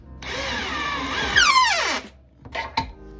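A power driver sinks a coarse-thread No. 10 Phillips screw into a wooden Kreg work bench, giving a steady high whine that drops in pitch as it stops, then two short follow-up bursts.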